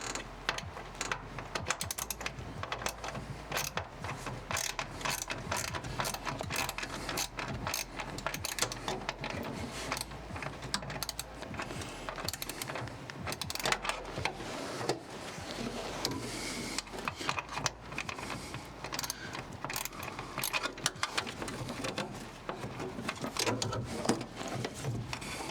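A ratchet wrench works the last stubborn bolt during a tuning job on a balancer and brake pedal, a quiet, rapid run of mechanical clicking and ratcheting that continues steadily with faint creaks and no talk.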